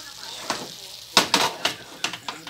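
A utensil scrapes and stirs chicken tinola in a pan, making several quick, irregular strokes over a faint sizzle.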